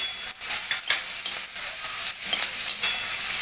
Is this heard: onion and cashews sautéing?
yes